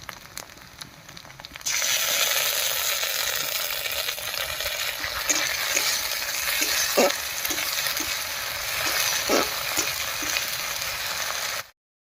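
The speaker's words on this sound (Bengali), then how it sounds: "এবার এর মধ্যে দেব শুকনো লঙ্কা বাটা আর জিরা বাটা" Dried chilli paste and cumin paste hit a hot pan for an egg curry and erupt into a loud, dense sizzle that holds steady, with occasional stirring clicks until it cuts off abruptly.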